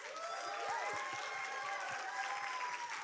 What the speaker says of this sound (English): can I get a massive round of applause from everybody in here for our sponsors